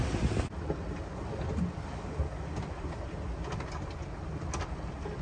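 Strong wind roars over the microphone aboard a sailing boat passing an island near Kos, a steady, loud rumbling buffet with occasional gusts and water noise beneath, no voices.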